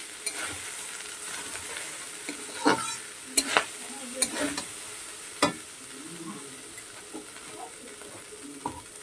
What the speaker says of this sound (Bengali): অল্প দিয়ে আবার হালকা করে মাখিয়ে নেবো। এই সময় লো ফ্লেমে রাখতে হবে।